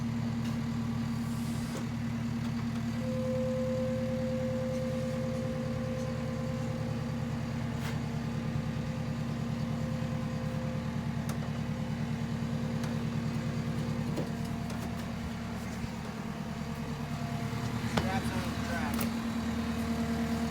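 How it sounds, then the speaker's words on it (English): A skid steer engine drones steadily while lowering a VW Beetle body during a restoration, a constant low idle with a faint whine. Machinery clanks and shifts near the end. "Skid steer's a little too tall."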